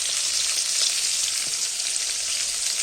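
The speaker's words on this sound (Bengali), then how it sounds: "এবার উচ্ছেগুলো ভাজছি" Bitter gourd frying in hot oil in a home kitchen, producing a steady, close, hissing sizzle with a few soft crackles and no talking.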